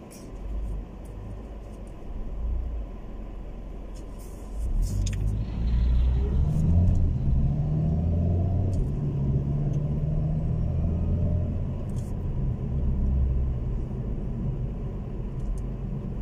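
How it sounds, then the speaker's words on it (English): A big truck passing on a road in New Zealand, its heavy rumble swelling from quiet into a loud, close, low roar that holds steady for several seconds before easing slightly, heard from inside a car. "Big truck."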